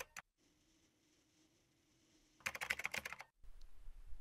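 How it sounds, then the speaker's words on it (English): Password typed on a computer keyboard followed by the enter key, a quick close burst of clicky keystrokes lasting under a second after a near-silent pause, then a soft hum. "I have to type the password again, and tapping the enter button again"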